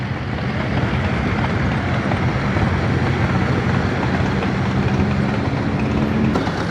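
Small Case tractor engine running steadily at a Missouri tractor show, a continuous loud mechanical rumble that holds at an even level throughout with no breaks.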